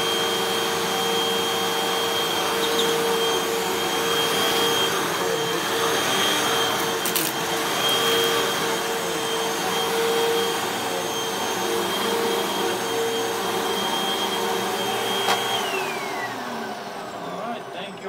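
A Hoover Wind Tunnel vacuum cleaner runs steadily with its suction restored after a blockage, a loud continuous motor whine with a droning hum that holds for most of the stretch before easing slightly near the end.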